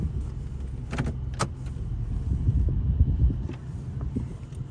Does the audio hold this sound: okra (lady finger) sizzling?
no